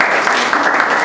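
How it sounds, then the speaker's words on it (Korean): A church congregation at a young adults' Sunday service claps in a brief burst of steady, fairly loud applause that lasts about a second. "박수로."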